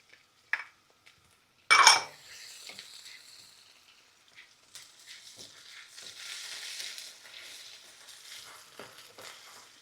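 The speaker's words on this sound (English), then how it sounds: "Next, I am going to add vegetables. This is frozen vegetables." Frozen vegetables hitting a hot pan for Lao-style shrimp fried rice, a sharp burst of sizzle and clatter followed by a lighter steady frying hiss with occasional utensil scrapes.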